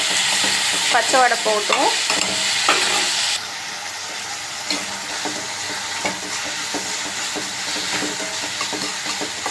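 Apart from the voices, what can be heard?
tomatoes frying in a pan for fish curry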